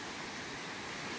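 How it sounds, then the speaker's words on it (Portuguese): Steady broadband roar of waterfalls at the Serra do Corvo Branco canyon, a constant hiss-like rush with no breaks, heard alone. "que vocês estão escutando aí é das cachoeiras que tem aqui."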